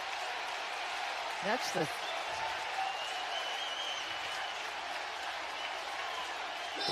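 A ballpark crowd at Citi Field applauds and cheers after a home run, a broad steady wash of clapping from a distance, with a commentator speaking over it.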